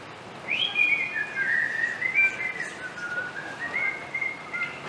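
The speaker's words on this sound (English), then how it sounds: "whistling a merry tune" Someone whistles a lilting, wavering melody alone while picking wild blackberries, clear and fairly close against a faint hiss.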